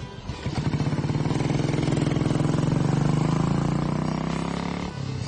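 A Royal Enfield Bullet motorcycle, a 50-year-old single-cylinder design, thumps past with a steady, loud, rhythmic engine beat that swells and then fades as it rides by, heard alone.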